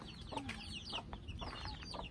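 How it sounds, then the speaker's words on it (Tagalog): Chickens cluck and chatter in short bursts, several birds calling quietly at a distance in a rural province, with no one speaking. "Daming manok."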